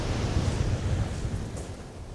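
Huge sea waves crash and roar on a stormy beach during a sea fishing outing, a dense, continuous rumble of surf mixed with wind buffeting, steady and loud with no speech.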